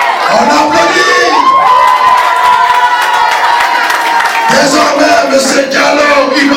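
At a political party's investiture ceremony in Kinshasa, a packed crowd cheers and shouts with scattered clapping, a loud, sustained roar of voices that dips briefly and then surges again.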